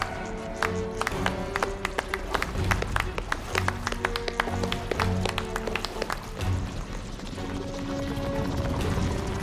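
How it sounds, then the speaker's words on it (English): Several people clapping mockingly in uneven rhythm amid clattering footsteps and game noises in Marvel's Guardians of the Galaxy, with a low tonal hum underneath. "Then why are you clapping?"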